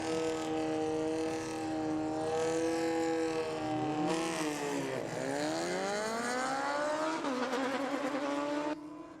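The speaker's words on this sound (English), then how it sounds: "There's got Emmett out here now on the Hayabusa, taking on the big Kawasaki ZX14." A Suzuki Hayabusa and a big Kawasaki ZX14 launch in a night drag race, their engines screaming through rapid gear changes with sweeping rising pitch, loud and sustained before cutting off near the end.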